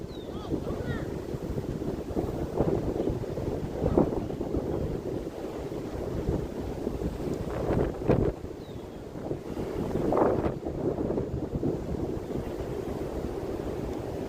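Wind gusts buffet the microphone beside a river while fishing, a steady rushing noise with stronger swells near the middle and end, faint and continuous with occasional murmured voices underneath.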